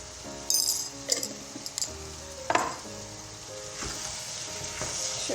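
A zucchini dish with black pepper and red pepper flakes is stirred in a pan, a spoon clinking and scraping against the metal several times over a soft, steady sizzle.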